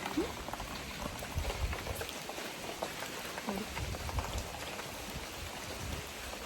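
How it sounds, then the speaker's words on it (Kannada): Light drizzling rain gives a faint, steady patter outdoors, with soft scattered droplet ticks and no talking. "ನೋಡಿ ಮಳೆ ಸ್ವಲ್ಪ ನಿಲ್ತು. ಸ್ವಲ್ಪ ಡ್ರಿಸ್ಲಿಂಗ್ ಇದೆ."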